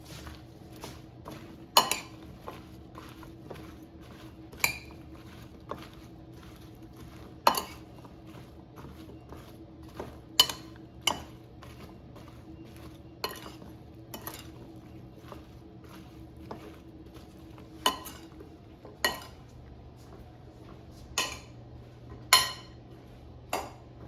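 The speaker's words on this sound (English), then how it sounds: "And now toss until everything is coated with oil and seasonings." Cubed Lita squash is tossed with oil, salt, black pepper and garlic powder in a bowl, producing repeated sharp clinks of utensil against the dish at irregular intervals over a quiet background.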